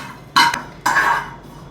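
Cumin seeds dry-roasting in a pan without oil, heard as two short scraping, rattling stirs against the metal a moment apart, close and fairly loud.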